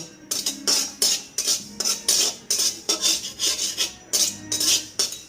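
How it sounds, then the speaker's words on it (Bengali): Kheer mixture stirred in a pan over low heat, a spoon rasping and scraping against the metal in a steady rhythm of about a dozen close, distinct strokes, with no voices. "এক মিনিট মতো আমি একদম হালকা আঁচে এটা নেড়ে নেব"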